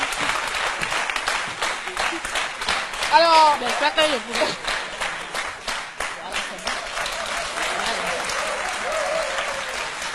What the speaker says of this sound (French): On l'applaudit très fort pendant qu'elle vient s'installer.